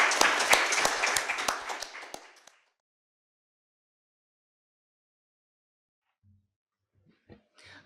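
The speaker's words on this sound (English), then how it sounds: "A round of applause." Conference audience applauds for about two and a half seconds, crisp claps close and fading out, followed by silence and a few faint thumps near the end.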